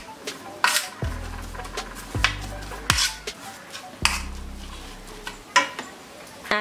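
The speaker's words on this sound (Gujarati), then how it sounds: "આ રીતના સરસ રીતે મિક્સ કરી લેવાનું છે જેથી ખાંડ પણ સરસ રીતે ઓગળી જાય" A spoon clinks and scrapes against a pot while raw mango chhundo is stirred with sugar, giving a few sharp metallic taps with ringing tails between softer sticky scraping.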